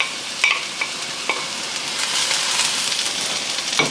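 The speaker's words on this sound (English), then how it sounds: "So saute them first. Add in your garlic next." Garlic sizzles and frizzles in a hot pan over high heat, a steady close crackling hiss with a few sharper pops and stirring scrapes, no voices.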